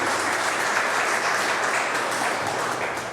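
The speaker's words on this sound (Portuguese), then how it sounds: "Vamos aplaudir o Senhor." A congregation at a church wedding breaks into dense, steady applause, many hands clapping together at close range and holding at an even loudness throughout, with no speech over it.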